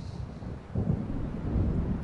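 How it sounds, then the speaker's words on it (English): Deep thunder rumbles from an approaching storm in the Alan Wake video game, a low rolling swell building after a quiet start, with a hint of rain and wind beneath. "It seems there's a storm coming."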